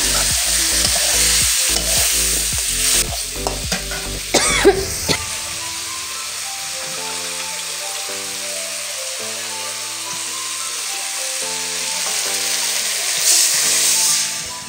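Taki fish hitting a hot pan, a steady close sizzle with a few clattering knocks and stirring scrapes in the first few seconds, settling into continuous frying hiss.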